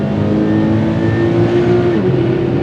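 A Subaru BRZ engine pulling hard under acceleration on a race track, loud and close from inside the car, a sustained rising drone with a faint whine.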